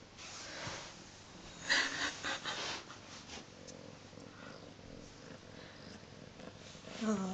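Burmese cat wearing a jumper purring close up, a soft continuous rumble with snorty breaths, brief louder rustling near the start.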